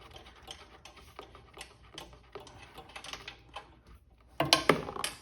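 A ratchet works loose a nylon locking nut on a Harley-Davidson sidecar wheel, giving soft repeated clicks and mechanical ticks, quiet and close, with a louder burst of clicking at the end.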